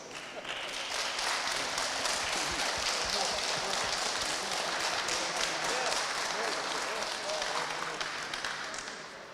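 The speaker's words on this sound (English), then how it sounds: "let's have a round of applause for our guests" Sustained audience applause at a video games industry conference, a dense continuous wash of many hands clapping at steady loudness throughout, with no talking over it.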